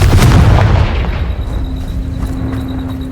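A Confringo fire spell blasting in the video game Hogwarts Legacy: a loud, deep boom followed by a long rumbling decay, with a faint high tone lingering afterward.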